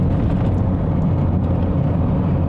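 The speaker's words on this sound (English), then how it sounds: "just blip the throttle with your heel, and as you drop down into second" A Mitsubishi Starion's engine drones steadily and loudly up close from inside the car, a constant low rumble with slight wavering as the throttle is blipped on a downshift into second gear.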